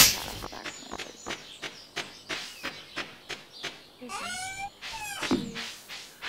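Repeated cat meows from the video game Stardew Valley, a steady run of short calls spaced about every half second, fairly near and clear, with a few longer warbling cries near the end.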